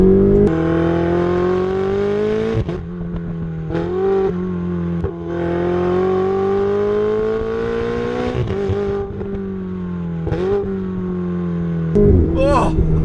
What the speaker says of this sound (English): And you get that turbo whoosh